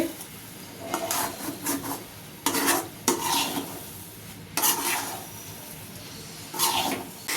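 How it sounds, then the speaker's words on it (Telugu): Egg bhurji being stirred in a pan, repeated scraping and rubbing strokes of the spatula against the metal in irregular bursts, close and clear with quiet gaps between. "ఇలా మంచిగా కలిపేసుకోవాలి."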